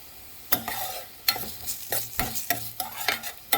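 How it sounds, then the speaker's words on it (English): Vegetables cook in a red pepper sauce in a pan, with a steady soft sizzle broken by repeated scraping stirs and clinks of a utensil against the pan, close by and with no talking. "Let that simmer up, soften, just briefly."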